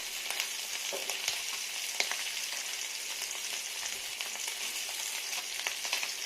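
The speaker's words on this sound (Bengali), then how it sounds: "মাছ ভালো করে ফ্রাই করতে হয়" Small carp fingerlings frying in oil in a home kitchen give off a steady, dense sizzle with scattered sharp pops and crackles throughout, and no voices are heard.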